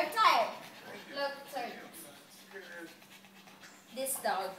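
A small dog pants in quick breathy bursts close by, with whimpering mixed in, while a child and an adult talk over it throughout.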